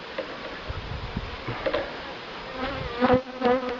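Honey bees fly around syrup feeders at a hive, giving a steady, close buzzing drone with individual bees passing nearby and the hum swelling louder toward the end.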